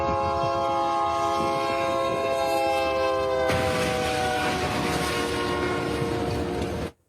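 A train passes a road crossing: a loud, sustained multi-tone horn blasts continuously while the heavy roar of the rolling train builds and then cuts off abruptly, with no voices.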